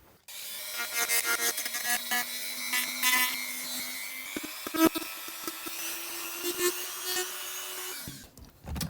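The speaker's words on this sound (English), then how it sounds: "I'm just going to rip off with this Dremel and then disguise it as damage" Dremel rotary tool grinding and scraping the surface of an AT-AT model, a continuous close whine with steady pitch and rough gritty bursts, running nearly the whole time before stopping at the end.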